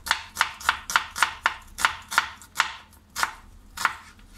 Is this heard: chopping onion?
yes